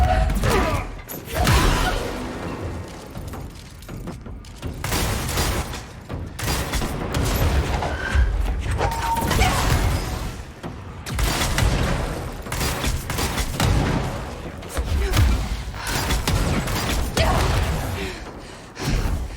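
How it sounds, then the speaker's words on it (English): In the Control game, a projectile grenade launcher fires and sticky grenades explode, producing repeated loud booms and blasts in an irregular rhythm across a dense, chaotic combat mix. "really, really liking the projectile grenade launcher"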